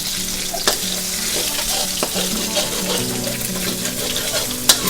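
Egg sizzles in a hot frying pan while a utensil scrapes and stirs it with occasional light clicks, close and continuous.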